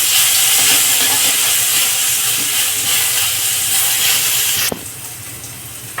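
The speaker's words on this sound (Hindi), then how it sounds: "आधा चम्मच लहसुन अदरक मिर्ची का पेस्ट डालेंगे। पेस्ट को फ्राई होने देंगे।" Garlic, ginger and chili paste fries in a hot pan, a loud continuous steamy hiss that drops abruptly near the end to a quieter sizzle, no talk.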